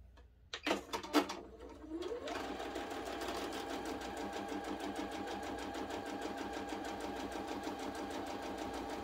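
A sewing machine stitches a quilt block along marked lines, starting after a few clicks and then running in a steady, even whir, close and alone.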